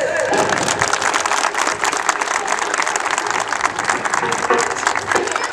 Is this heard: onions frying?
no